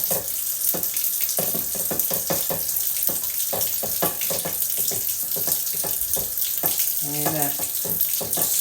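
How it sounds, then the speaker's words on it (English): A cast iron skillet is scrubbed with a scrub brush under running water, giving a steady hiss of flowing water broken by rapid, rhythmic bristle scrapes, close up, with a brief spoken word. "And then I use another scrub brush."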